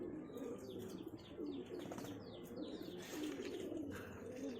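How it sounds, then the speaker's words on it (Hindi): Pigeons coo steadily in a loft of twelve-tailed highflyer pigeons in Nagpur, soft low rolling calls layered with faint chirps and a brief flutter of wings, close and continuous. "पुराना कबूतर लग रहा है ये।"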